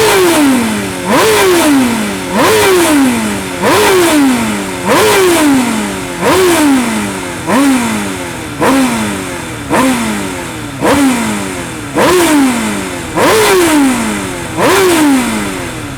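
BMW M1000RR sport motorcycle, already warm, started and revved in a steady series of about ten loud, sharp throttle blips, each rising quickly and falling back toward idle, heard close up with no talking.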